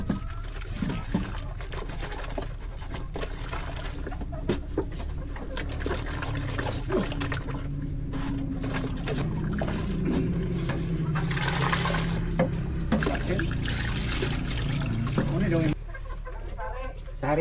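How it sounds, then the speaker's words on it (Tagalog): Tap water runs and splashes while a container for sliced vegetables is washed, with an uneven gushing and sloshing that swells louder in the middle, under intermittent talk nearby. "Hugasan ko muna ito guys, yung ating lalagyan ng mga gulay na in-slice"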